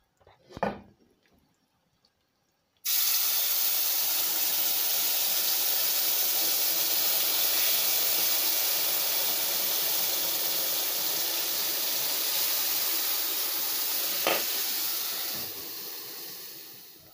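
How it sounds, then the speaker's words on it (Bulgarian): Hot syrup meets toasted flour in a pan for Bulgarian-style flour halva, bursting into a loud, steady hiss and sizzle of steam after a short quiet start, fading slightly toward the end. "Сега внимателно добавяме сиропа."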